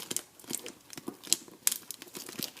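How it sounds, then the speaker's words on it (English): Heavy-duty clear tape crackles and crinkles in sharp irregular bursts while being pressed down over heavy fabric for a folding chair cover, close up and fairly quiet. "I'm taping this all down"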